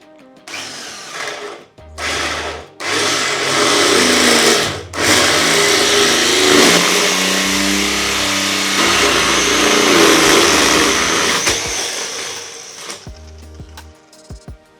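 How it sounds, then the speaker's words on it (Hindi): A cordless drill fitted with an adjustable hole punch bores a hole in wood, a loud whining motor that starts in short bursts, then runs steadily under load for several seconds before cutting off. "तो यहाँ पर मैं अब होल करूँगा"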